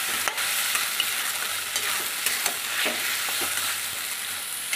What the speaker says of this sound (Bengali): আর এই যে মশলাটা পেস্ট করেছি সেটা তেলের ওপরে দিয়ে দিলাম। এবার একটু ভালো করে নেড়ে নেব।